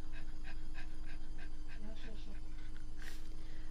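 A pet dog pants close by in rapid, rhythmic breaths and blows air, with a brief sharper puff near the end, over a steady low hum.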